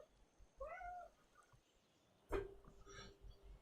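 A cat meows faintly in a quiet room, one drawn-out meow early on and a sharper thump and short cry a moment later.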